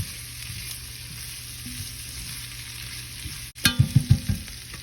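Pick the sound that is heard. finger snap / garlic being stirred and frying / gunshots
garlic being stirred and frying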